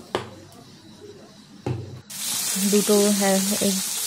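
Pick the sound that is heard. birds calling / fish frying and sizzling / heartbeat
fish frying and sizzling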